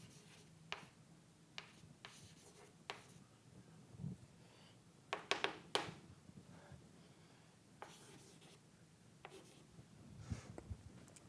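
Pen strokes scratch across paper while math is written out by hand, short bursts of faint scribbling with pauses between them and a light rubbing sound, close and quiet.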